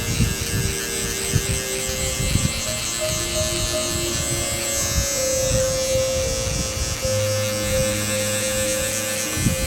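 Electric hair clippers buzz steadily and close while tapering hair at the back of the head, their motor hum continuous under faint scraping through the hair, with no voices.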